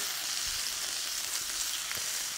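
Shallots sizzle in a steak pan over a live fire, making a steady, bright hiss of frying with a few faint stirring bumps underneath.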